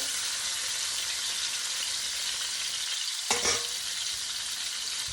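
Fish frying in hot oil in a pan on a stove, a steady close hiss of sizzling with a brief clatter partway through.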